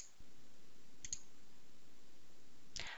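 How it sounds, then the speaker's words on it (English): Computer mouse clicks in STAAD.Pro software, a faint click near the middle and a sharper double click at the end over quiet room hiss, close and soft, with no talking. "and then I'll go ahead and click assign."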